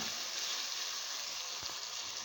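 Onions and tomatoes frying in a pot for chana pulao, a steady soft sizzle with a faint stir-like knock near the end, quiet and continuous with no talking.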